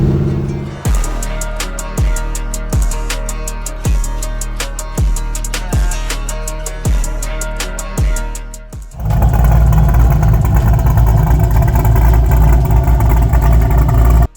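An LS3 V8 in a 1969 Camaro is blipped about a dozen times in sharp, evenly spaced revs. It then settles into a loud, sustained roar at higher rpm, with no one talking.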